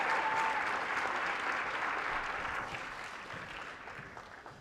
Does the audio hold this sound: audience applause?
yes